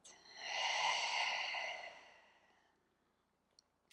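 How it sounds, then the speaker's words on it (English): A long, deep breath out during a morning hip and spine mobility routine, one close, airy exhale that swells and then slowly fades, with no talk. "And one more deep breath out."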